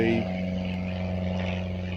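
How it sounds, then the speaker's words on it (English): A small propeller plane, somewhat larger than a Cessna 152, passes at an airport. Its engine makes a steady, loud, tonal drone that holds without letup throughout. "another small plane, not as small as a 152 Cessna"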